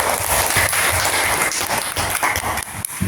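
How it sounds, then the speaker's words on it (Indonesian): A classroom group of students claps for the first group, a brief burst of dense, lively applause. "Tepuk tangan dulu untuk kelompok 1."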